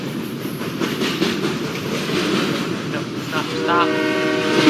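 Animated kids-show train approaching, a rumbling clatter growing louder before a sustained horn blast rings out near the end.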